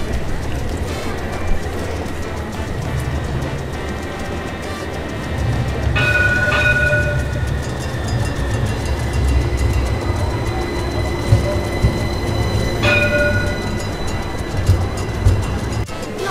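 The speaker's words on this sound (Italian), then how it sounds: "Passa pure il tram in mezzo a questa via qua." A tram rumbles past on a street in Seville, steady rolling noise with a couple of brief high squeals from the wheels over the background.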